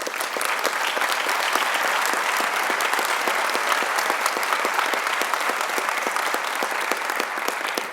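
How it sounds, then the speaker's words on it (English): Graduates are applauded at a university commencement ceremony, a loud, dense round of many hands clapping from a large crowd that keeps an even intensity throughout. "I'll just applaud you all"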